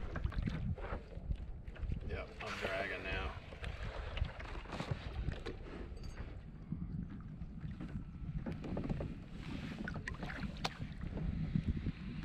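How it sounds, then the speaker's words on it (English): Wind gusting around a kayak on Lake Champlain in early October, blowing from the southeast, with rough microphone buffeting, water sloshing and paddle splashes throughout, loud and close. "The wind is actually blowing me from the southeast"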